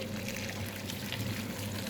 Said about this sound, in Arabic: نحط عليه على طول كده ميه بتغلي